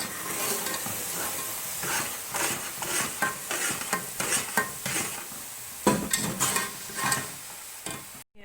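Sugar syrup is stirred into a semolina mixture in a pot for suji tikkiyan, a steady sizzle under repeated scraping and clinking of the spoon against the pot, close and fairly loud with no talk.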